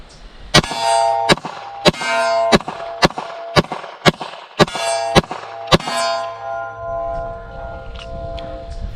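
A Glock 19 Gen 3 fitted with a Cross Armory Legion slide empties a ten-round magazine: ten sharp, loud shots at a steady, fairly quick pace, each with a metallic ringing tail, then quiet.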